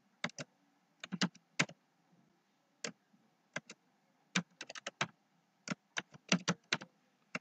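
Formula being typed on a computer keyboard: sparse, sharp key clicks in short clusters and single taps with pauses between, close and clear against a quiet room.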